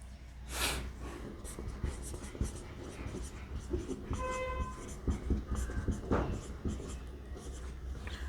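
A pen scratches out notes for a polynomials lesson in continuous strokes over a noisy background. A brief tonal horn-like sound cuts in midway, and there may be faint speech.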